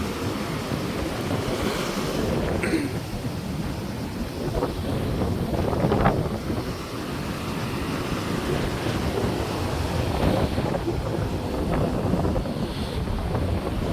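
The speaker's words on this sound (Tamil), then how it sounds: "அதில் இவ்வளவு ஒரு பயங்கரமான அலையை பாருங்க" Rough sea waves crash and roll continuously on the coast at Jaffna, with heavy wind buffeting the microphone in a dense, loud roar.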